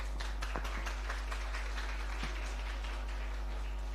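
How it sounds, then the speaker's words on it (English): Audience at an intra moot court competition session gives a round of applause, scattered individual claps over a low steady electrical hum, fairly quiet and sparse. "Can we please have a round of applause?"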